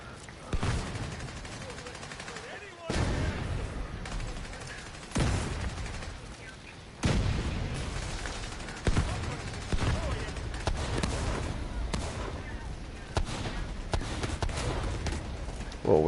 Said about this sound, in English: Son of a bitch threw a grenade at me.